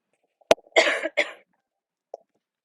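A person coughs one sharp time, then gives two harsher coughs in quick succession, followed by a brief faint throat sound. The coughs are close and loud in an otherwise quiet room with no talk.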